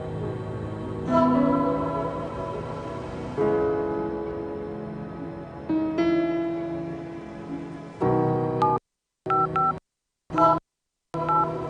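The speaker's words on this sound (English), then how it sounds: "Get a glimpse of what a comfortable life is with Q Money by dialing *323# now." Telephone keypad dialing tones play in a short burst near the end, sharp separated beeps after a stretch of steady tonal music in a radio advertisement.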